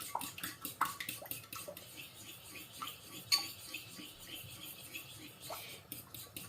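Eggs, oil and vanilla for a butter cake being whisked in a bowl, giving a steady rhythm of quick, light clinks and taps with a few louder knocks, close and fairly soft.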